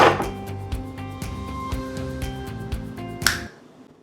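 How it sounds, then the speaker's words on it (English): Knife chopping hard tack on a cutting board, a quick run of sharp, evenly spaced knocks near at hand over a steady musical background, ending with one louder strike before the sound stops. "I'm going to take this little guy over to a cutting board, where I am going to chop him up"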